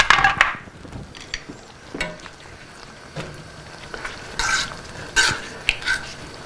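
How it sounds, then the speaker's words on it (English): Steaks simmer in a pan while a utensil stirs and scrapes, producing several scattered clinks and scrapes over a faint bubbling background. "We're going to put them right back in there and let them simmer into this right here."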